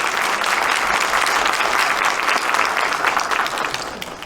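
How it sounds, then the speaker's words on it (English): Loud, dense audience applause fills a hall after a welcome speech, many hands clapping continuously at full strength before thinning slightly toward the end, with no voices over it. "Can we have a big round of applause,"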